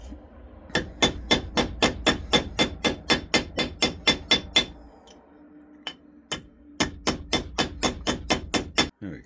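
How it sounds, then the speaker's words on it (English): Hammer striking copper flat on an anvil in steady rapid ringing blows, a long run of evenly spaced metallic hits, a brief pause, then another quick series of strikes, close and loud. "we're going to take it back over to the anvil, and we're going to flatten this part out"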